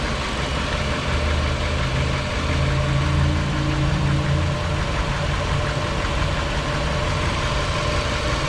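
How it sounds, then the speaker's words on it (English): A 1959 Chevrolet Bel Air engine idling steadily, a continuous close rumble with a faint rhythmic tick and no talking. "I think I'll turn the engine off for a minute"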